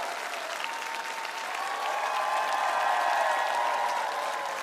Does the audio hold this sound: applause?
yes